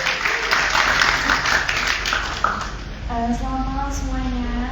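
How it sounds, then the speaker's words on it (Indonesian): Audience applause at an Indonesian entertainment press event, a steady wash of clapping for about three seconds before fading under a voice that starts talking. "tepuk tangan dong"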